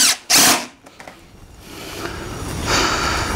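Power drill driving screws into a wooden beehive body, two sharp loud whirring bursts at the start, then a rising rough grinding whir of the screw seating into the wood, without speech.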